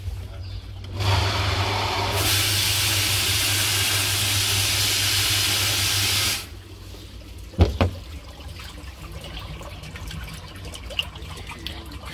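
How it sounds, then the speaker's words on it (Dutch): Water pours and splashes steadily into a garden pond with a drum filter, skimmer and drains, loud and continuous for several seconds before cutting off, leaving a quieter trickle and a few brief knocks. "Maar die flow op het water is echt mooi."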